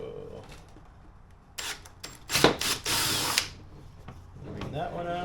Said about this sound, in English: So we're going to go ahead and drill those holes out now.